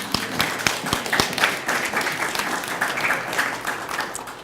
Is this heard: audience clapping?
yes